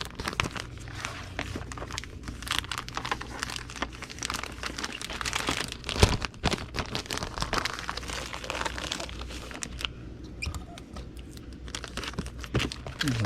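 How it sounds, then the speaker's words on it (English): A video game is slid into a used plastic comic book bag, producing close crinkling and rustling of thin plastic with sharper crackles and a brief bump midway. "We are going to go ahead and put this game in a used comic book bag."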